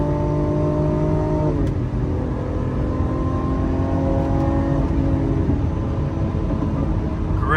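A V12 car engine with a single-clutch gearbox, revving steadily, its droning tone climbing then dropping with each gear change, loud and close throughout with no talking.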